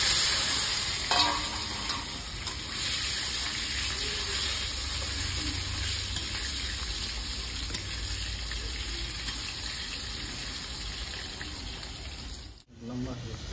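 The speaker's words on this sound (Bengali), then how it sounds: "আলু ভাজা হয়ে গেছে" Potatoes fry in oil in a pan, giving a steady sizzle with occasional stirring scrapes and a clack near the end.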